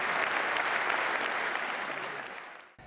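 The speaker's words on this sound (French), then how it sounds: "C'est debout que le public de Nantes et de La Baule a applaudi Maxime Vengerov" A standing concert audience in Nantes and La Baule applauds violinist Maxime Vengerov and the Monte-Carlo Philharmonic Orchestra; dense, loud clapping fills the hall, then cuts off abruptly near the end.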